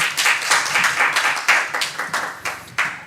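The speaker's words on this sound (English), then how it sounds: "Give a round of applause to our moderator and all of the author." Applause from a conference audience for a moderator and paper authors, a close, uneven patter of clapping hands with distinct louder claps standing out, steady throughout.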